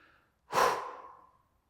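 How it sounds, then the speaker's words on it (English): A single deep breath during a full-body mobility exercise class, a close, audible exhale that rises suddenly and slowly fades, alone without talk. "Good, breathe."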